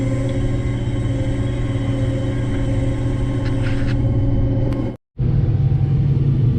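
A combine harvester drives back across a field with a steady loud engine drone and rumble, heard from up close, briefly cutting out near the end before resuming.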